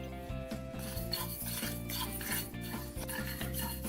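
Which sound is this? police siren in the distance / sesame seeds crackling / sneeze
sesame seeds crackling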